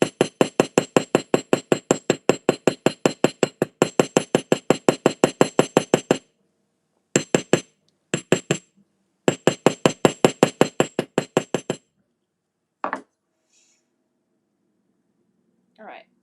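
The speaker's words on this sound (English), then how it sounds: "I'm gonna hammer the bottom, but not the top." Jewelry wire is hammered flat in rapid bursts of sharp metallic taps, followed by a few scattered single strikes and quiet gaps.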